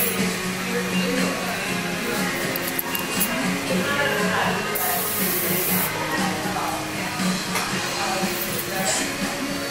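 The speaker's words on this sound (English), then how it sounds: "I think holding the can away as you're spraying is great." A hairspray can mists onto hair during bohemian wave styling, giving a short airy hiss midway through while someone talks steadily over light handling clinks.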